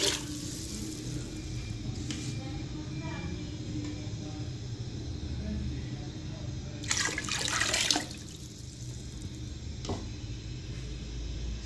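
Water is poured into a pot for Chinese pulao in a home kitchen, a soft, steady splashing stream with a brief louder gush partway through.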